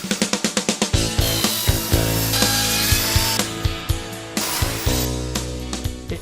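An Exact 14 multi-purpose mini saw makes a quick series of sharp rhythmic strokes, then cuts with a steady buzzing whine broken by short pauses and repeated bites into the material, loud and close.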